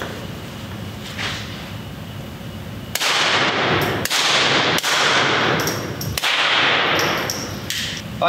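Suppressed .22 pistol shots ring out at a range: four or five sharp, loud cracks spaced about a second apart, each trailing a brief echo.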